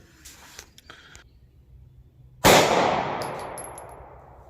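A single sharp, loud gunshot from a SIG pistol firing 9mm Grizzly 124 grain JHP rounds cracks after quiet handling noises, followed by a long ringing decay and a faint metallic ping.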